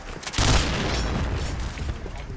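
A grenade goes off in a first-person shooter match, one sudden boom followed by a rumbling, crackling tail that stays loud and dense for the next two seconds.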